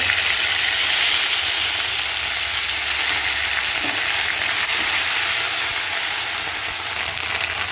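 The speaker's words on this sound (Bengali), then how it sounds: "এবারে জিরেটাও ভাজা হয়ে গেছে এবার কিন্তু ভেজে বেটে রাখা আদাটা দিয়ে" Ground ginger paste frying with cumin in a pan for Bengali chholar dal, a loud continuous sizzling hiss that holds steady throughout with a faint scrape or two, no talk.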